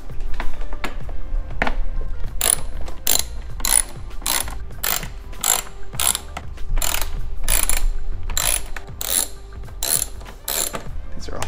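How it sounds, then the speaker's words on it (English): Ratchet wrench fitted with a T30 Torx bit loosening bolts on the grille of a BMW M240i, a steady run of loud, close clicking pawl strokes in repeated bursts throughout. "I'm gonna get my T30 Torx bit. Should fit just fine. Yep. And then go ahead and remove all these six bolts."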